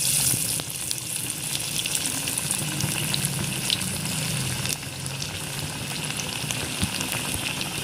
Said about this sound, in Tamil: இப்போ நான் முதல் வடை போட போகிறேன். எண்ணெய் நல்லா காஞ்சாச்சு.